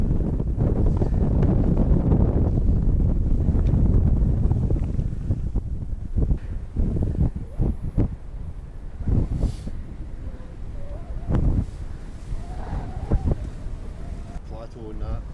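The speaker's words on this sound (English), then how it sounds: "A bit of wind up here, not too much." Wind buffets the microphone on a snowy winter mountain plateau in the Cairngorms, a steady loud roar that eases slightly midway, with someone talking over it.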